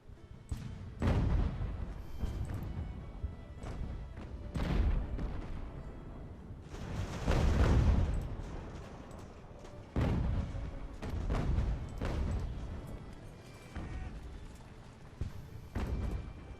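Distant, muffled thuds of artillery fire in the naval strategy game Ultimate Admiral: Age of Sail, irregular booms rolling in one after another, with some louder blasts standing out against a low rumbling battle backdrop.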